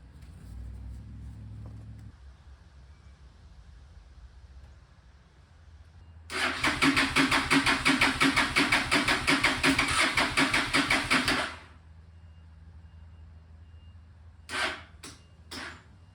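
A Honda Shadow motorcycle with a dead battery cranks for about five seconds in a steady, labored whir that never catches, under a low background hum, followed by a few brief clicks.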